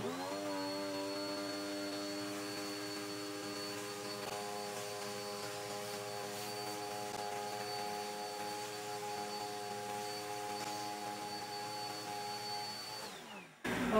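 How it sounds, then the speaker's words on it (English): A vacuum cleaner drones steadily at close range while cleaning dust from a camera lens, a constant whining motor hum that cuts off abruptly at the end. "now we're going to take the vacuum cleaner"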